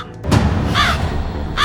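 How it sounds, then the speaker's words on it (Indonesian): Crow caws in two harsh bursts, near and fairly loud, over a dim nighttime background with no talk. "Itu burung gagak."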